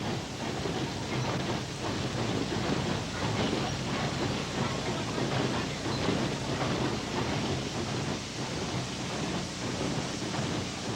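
A ten-wheeler steam locomotive hauls a mixed train to Port Burwell, a continuous loud rolling rumble with rail clatter that holds steady throughout, no voices present.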